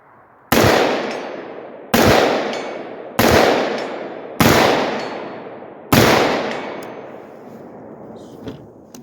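5.56 rifle fitted with a Sharps Badlands muzzle brake, fired five times outdoors, each loud sharp crack trailing into a long echoing decay, shots spaced one to two seconds apart.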